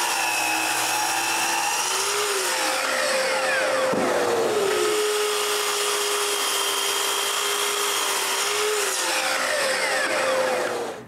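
A power saw whines loudly and continuously, its pitch rising and dropping as it bites into wood, with no talking.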